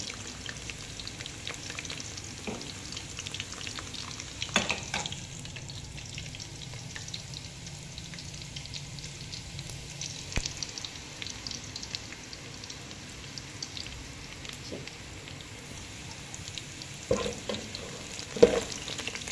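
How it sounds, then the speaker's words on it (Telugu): Vegetables such as brinjal and green chillies frying in oil for chicken biryani, a soft continuous sizzle with occasional stirring clinks, steady and fairly quiet throughout. "ప్రతి కూరగాయ ఫ్రై చేయాలి. వంకాయ ఫ్రై చేయాల, పచ్చిమిరపకాయ ఫ్రై చేయాలి"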